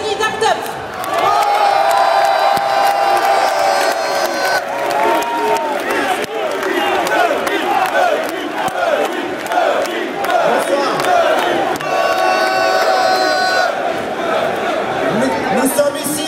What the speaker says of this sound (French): je vous demande de faire une ovation à Denis Dartup